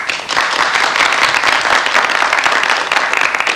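A television quiz studio audience in 1987 gives dense, steady applause. It is loud and continuous for the whole stretch, with no talk over it.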